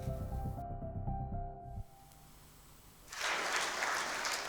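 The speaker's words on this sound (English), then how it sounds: "Let us applaud the remarkable achievements of Shruti Merin Lal." Music fades out to a quiet pause, then a crowd breaks into steady applause that continues to the end.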